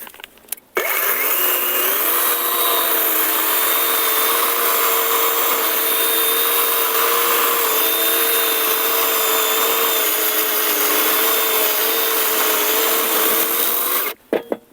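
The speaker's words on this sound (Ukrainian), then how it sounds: "Пробуємо розпускати грьосером клена." A Grosser GCS 120SF cordless chainsaw ripping maple wood, a loud, steady, close whine with a high engine-like tone under a buzzing cutting rasp, starting abruptly and running unbroken for about thirteen seconds before cutting off.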